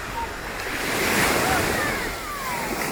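Sea waves break on a shore at Varazze on the Italian coast, a steady loud wash that swells slightly in the middle, with wind buffeting the microphone throughout.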